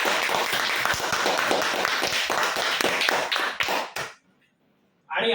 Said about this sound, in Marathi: जोरदार टाळ्या वाजवण्यासाठी